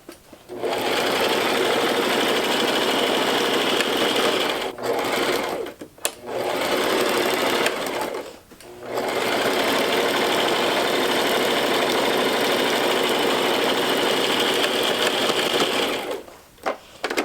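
A sewing machine stitches the seam of a bag in long, steady runs of loud whirring and rattling, with brief pauses between runs. The sound is close and no one talks.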